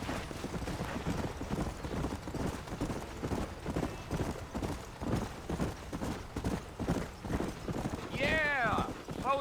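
Horse hooves in Red Dead Redemption on PS5 Pro, a quick steady clip-clop gallop close up, with a brief whinny near the end.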